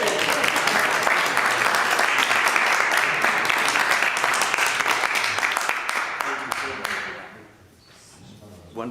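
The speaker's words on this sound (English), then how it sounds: "can we have a round of applause?" An audience at a Sunday forum breaks into sustained applause after a presentation, a dense wash of clapping that stays steady for several seconds before thinning out and fading near the end, with voices mixed in.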